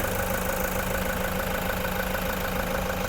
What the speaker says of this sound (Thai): ตอนนี้สตาร์ทเครื่องยนต์อยู่นะคะคุณลูกค้าฟังเสียงเครื่องยนต์ได้เลยค่ะ